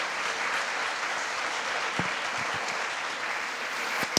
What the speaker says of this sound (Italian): ti faccio il ringraziamento e un applauso per il professore,